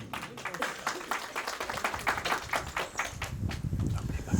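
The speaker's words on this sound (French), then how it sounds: "On applaudit pour le mesdames et messieurs." Wedding guests clapping at a ceremony, a dense round of applause with sharp irregular claps building slightly toward the end, heard close and loud with no words spoken over it.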